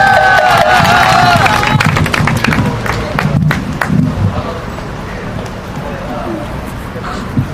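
Outdoor crowd at a Korean political protest rally in front of the government complex, loud cheering and clapping at the start that fades into diffuse crowd noise and murmur over several seconds.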